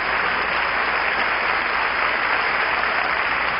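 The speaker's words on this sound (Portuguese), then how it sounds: "Vamos aplaudi-la." An audience at an evangelistic meeting applauds a woman, giving a steady, even wash of clapping that holds at a constant level for a few seconds.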